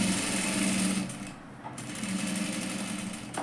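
A sewing machine runs steadily while stitching a katori blouse, its needle chatter fast and close. The stitching eases off briefly about midway, then picks up again and continues to the end.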